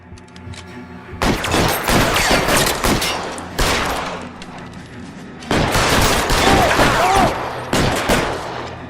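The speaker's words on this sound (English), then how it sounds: "Who else is shooting?" Rapid shotgun and gunfire bursts in the video game L.A. Noire: loud, repeated volleys of shots in clusters separated by brief pauses, close and sharp, with a voice speaking faintly between them.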